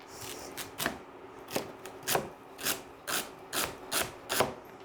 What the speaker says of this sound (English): you want your celery to be pretty, small. So you want to chop it really, really good